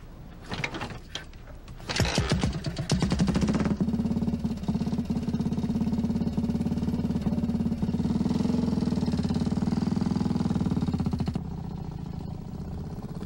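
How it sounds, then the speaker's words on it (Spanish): A BMW R2 motorcycle's horizontally opposed twin-cylinder engine starts with a few sputtering pulses, then settles into a steady, throbbing idle before dropping off near the end. "La motocicleta R2 siguió con el patrón de BMW de usar motores gemelos opuestos horizontalmente"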